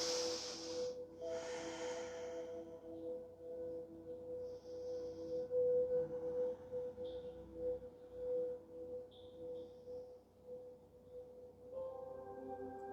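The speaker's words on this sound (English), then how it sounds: "Breathing in and breathing out." Slow breathing during a vinyasa flow yoga class: two soft, airy breaths close at the start, followed by quiet, steady room hum with faint chirps and no talking.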